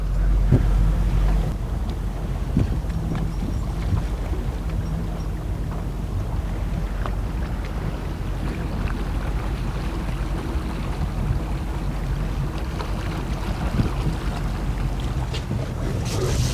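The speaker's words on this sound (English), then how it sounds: "I love riding on the Megan Lee with Richard at the wheel, going for boat rides" A boat engine drones continuously over rushing water and gusty wind buffeting the microphone, loud and constant throughout, on the Lower Columbia River.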